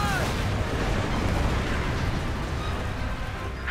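Battlefield gunfire in the video game Company of Heroes 2, a dense, continuous roar of shots and distant booms filling the whole clip at a steady loud level.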